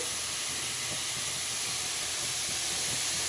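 Chopped garlic and onion frying in oil in a pan, a steady broad hiss of sizzling held at an even level throughout, close and alone with no voices.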